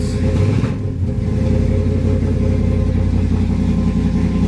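A Chevrolet S10 pickup's engine runs loud and close in a steady, rough drone after being brought back to life, with a slight surge near the start and no voices.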